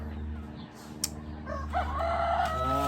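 Chickens cluck and call in a barnyard over a steady low hum, with a brief sharp knock partway through.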